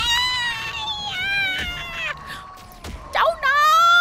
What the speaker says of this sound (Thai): ฉันได้ยินเพียงเสียงแมวของฉันตะโกนเรียกฉัน